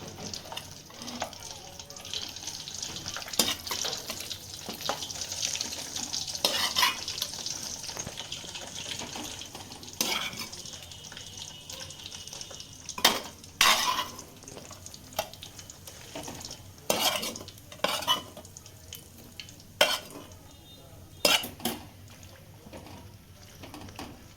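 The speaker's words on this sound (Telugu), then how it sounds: "మిగిలిన పీసెస్ను ఇప్పుడు ఇదే నూనెలో మళ్ళీ వేయించుకోవాలి" Chicken pieces for chicken pickle frying in oil, a steady hiss with clattering stirring and scraping knocks scattered throughout, fairly close.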